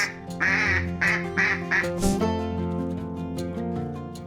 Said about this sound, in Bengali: এটা হলো হাঁস হাঁসকে ইংরেজিতে বলে ডাক